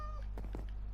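A cat in Minecraft gives a short meow, a quick pair of rising and falling cries over a steady low hum, with no one speaking.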